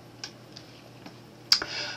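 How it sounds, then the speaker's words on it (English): A single key press on a computer keyboard, the Enter or Return key, gives a quiet, sharp click near the end, following a couple of faint ticks in a quiet room. "then I press Enter or Return on the keyboard."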